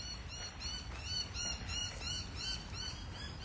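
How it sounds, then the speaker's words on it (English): Birds chirping and tweeting repeatedly outdoors, a steady chorus of short high calls over low background rumble. "The birds are pretty loud."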